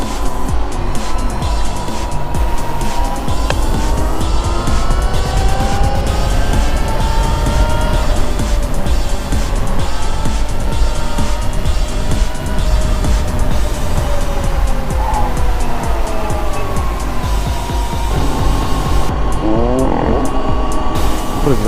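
An old Nissan Maxima drives hard at a Miami street ride-out alongside dirt bikes, its engine roaring loud and close with rising and falling revs throughout, plus a hint of tire noise.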